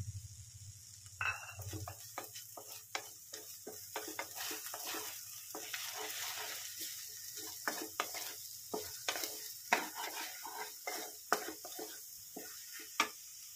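Beaten eggs fry in a hot pan for a dosa meal, with a constant soft sizzle and frequent clicks and scrapes as they are stirred, close and alone.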